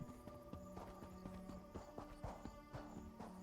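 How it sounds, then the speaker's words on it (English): Horse hooves clip-clop at a steady walking rhythm in the Elder Scrolls Online game world, each beat clear and close over a droning musical background, with no talk. "Horses."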